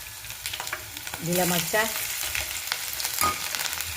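Garlic slivers and green chillies sizzle in hot oil with asafoetida, a steady close frying hiss with a few stirring scrapes and a brief spoken word over it.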